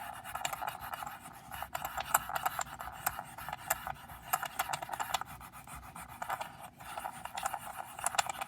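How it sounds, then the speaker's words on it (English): A hand tool burnishes scrapbook paper up close, making soft, repeated rasping strokes in an uneven back-and-forth rhythm with no talking. "Let me burnish that to get it moving."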